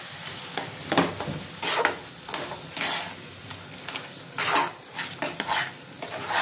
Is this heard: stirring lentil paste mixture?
yes